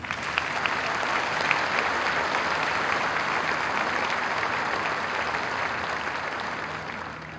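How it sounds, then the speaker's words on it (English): A crowd at the 2008 Wadsworth High School commencement gives the valedictorian a long, steady round of applause, thick and even, easing slightly as it closes. "help me recognize Michael with a round of applause"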